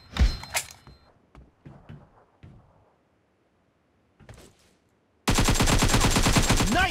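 Bursts of gunfire from the PUBG battle game: scattered sharp shots and clatter early on, then a pause, a short burst, and finally a loud, dense sustained volley of automatic fire to the end.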